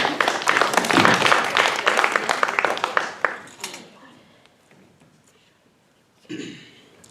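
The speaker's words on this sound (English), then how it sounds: "claps for Andrew" A classroom debate audience claps for a student, a loud burst of applause that fades after about three seconds into scattered taps, followed by a brief voice near the end.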